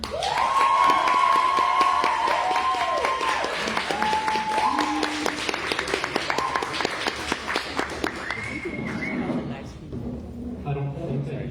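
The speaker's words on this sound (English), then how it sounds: "everyone give a warm round of applause for Dylan Kirk" An audience at an open mic night clapping and cheering for a first-time reader, with a dense burst of applause that gradually thins out, while a voice talks over it near the end.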